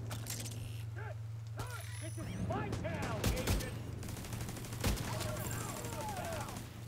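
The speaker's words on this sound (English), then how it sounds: "Let's test out using a turret real quick." A turret in the video game Division 2 fires several sharp bursts mixed with mechanical clanks, set against a steady background hum, while a person talks over the gunfire.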